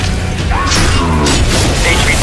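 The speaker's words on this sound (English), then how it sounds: "C4 going out." C4 explosive detonating in Call of Duty Black Ops Cold War, a loud, close blast with a heavy boom and mechanical clatter, followed by rumbling debris. A faint voice sits underneath.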